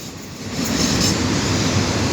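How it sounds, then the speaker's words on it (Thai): A crude oil freight train hauled by an Alsthom locomotive passes by in Thailand, a steady broad rolling rumble and rail hiss that swells slightly louder after the first half second. "ไปแล้วครับสำหรับขบวนรถสินค้าน้ำมันดิบขบวนที่ 634 ครับต้นทางมาจาก บึงพระจังหวัดพิษณุโลกปลายทางไปยังโรงกันน้ำมันบางจากแม่น้ำนะค รับ"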